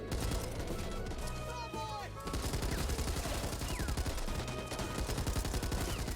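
Light machine gun hip-fired in the Back 4 Blood video game, a dense unbroken stream of rapid shots running nearly the whole time, loud, with game effects and sounds layered over it and a brief gap around the middle.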